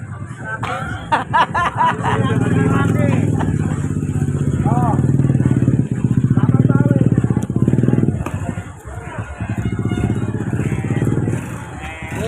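A motorcycle engine rumbles close by and passes, its drone swelling and fading, with people talking over it.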